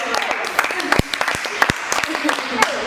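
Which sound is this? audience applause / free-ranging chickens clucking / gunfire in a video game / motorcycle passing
audience applause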